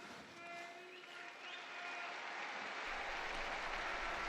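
A large crowd in St. Peter's Square applauds after the papal Angelus blessing, a sustained wash of clapping that swells louder partway through, with faint sustained tones underneath.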